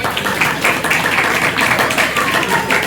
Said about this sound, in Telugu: అందరూ కూడా గట్టిగా చప్పట్లు ఉండడం సారి.